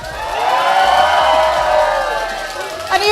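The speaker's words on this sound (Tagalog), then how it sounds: "You guys cheer too loud" A crowd at a CrossFire Legends championship finals LAN event cheers loudly and continuously, a roaring wall of voices and whoops that swells and holds for three seconds.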